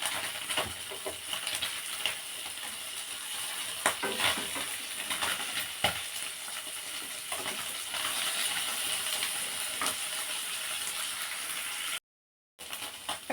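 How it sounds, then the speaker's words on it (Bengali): Small fish fry in a hot pan with a constant close sizzle, broken by light scraping and clinking as they are turned. "এখন ছোট মাছগুলো ভাজা হয়ে গেছে"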